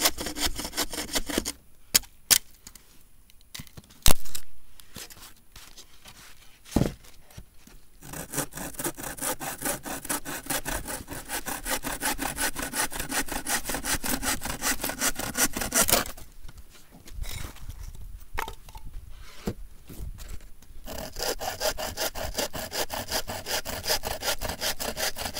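A hand saw cuts wood at a bushcraft camp in steady, rhythmic back-and-forth strokes, close and fairly loud, with short pauses between bursts of sawing.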